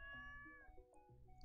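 A cat in the video game Stardew Valley gives a few short, clear meows in quick succession, quiet and close, with no talk.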